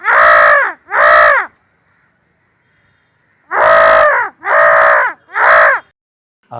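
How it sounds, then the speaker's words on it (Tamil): Crows caw loudly and close from a rooftop terrace, two harsh calls, then a pause of near silence, then three more in quick succession. "நம்ம போயிட்டு மொட்டை மாடியில் போயிட்டு காக்காவை கூப்பிட்டு பார்க்கலாம்"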